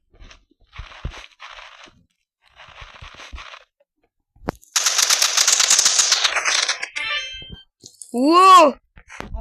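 Video game pistol gunfire comes as sharp isolated shots among quiet stretches, followed by a dense burst of crackling, clanging action and a ringing ding near the end.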